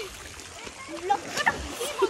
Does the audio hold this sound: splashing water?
yes